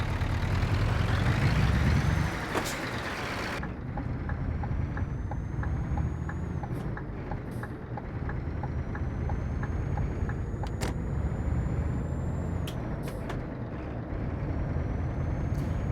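Scania truck in a trucking video game: a steady engine drone with a sharp air-brake hiss near the start and repeated faint clicks of a turn signal, no talk.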